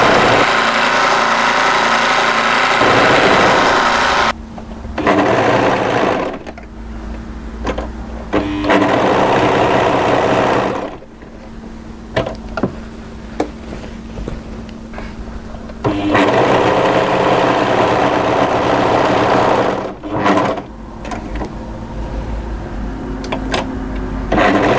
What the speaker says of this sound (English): now we're going to overlock along the bottom